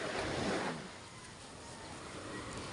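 Sea waves breaking near the shore in calm conditions, a broad rushing wash that swells in the first moment and then settles into a steady, softer surf hiss with light wind on the microphone.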